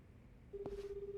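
A telephone in the Like a Dragon: Gaiden video game gives a short click, then a steady, clean dial or ring tone that holds to the end, close and clear over a low game backdrop.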